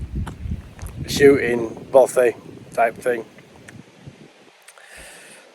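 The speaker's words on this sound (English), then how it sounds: "sorry about the wind." Low, blustery wind rumble buffets the microphone outdoors near Barden Upper Reservoir while someone talks over it, gusting strongest at the start.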